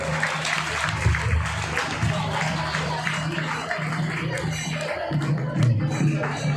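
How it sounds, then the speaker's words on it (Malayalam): An audience at an Onam celebration claps in a sustained, dense round of applause from start to finish, with a voice heard over it. "എല്ലാവർക്കും ഒരു കൈയടിക്കാം."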